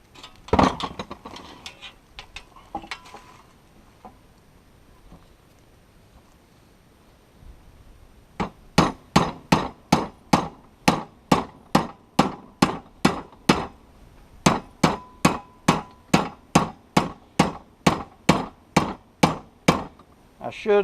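Repeated sharp metallic hammer blows in a steady rhythm on a travel trailer floor, coming after a few scattered knocks and a quiet stretch; loud and close.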